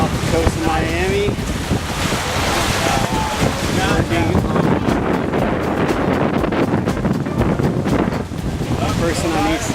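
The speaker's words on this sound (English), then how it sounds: "Tacking right now off the coast of Miami." A sailboat tacks at sea off the Miami coast, with heavy, continuous wind buffeting and rushing water and faint voices now and then under the roar.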